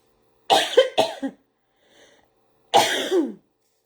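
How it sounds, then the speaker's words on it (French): A person coughs two quick times, pauses with a faint breath, then lets out one more harsh, drawn-out cough, close and loud. "Je sens que je tousse parfois"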